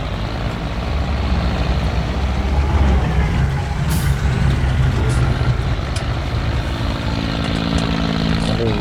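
Kubota tractor engine in Farming Simulator 19 runs as a steady, loud, rumbling drone throughout, with no pauses and no talk.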